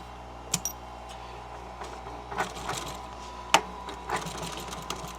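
A sewing machine stitches upholstery for a 1959 Ford Galaxie, running a short reverse lock stitch with a steady mechanical whir punctuated by sharp clicks and taps, close up without talk.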